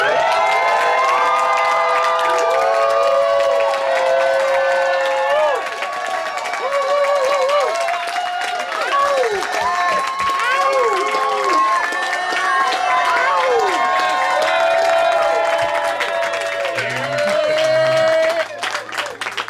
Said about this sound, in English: can we get the loudest fucking cheer ever